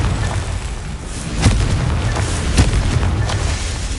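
The Confringo fire-blast spell in Hogwarts Legacy on PS5 sets off two heavy booming explosions about a second apart over a dense, rumbling game soundscape, with no voices.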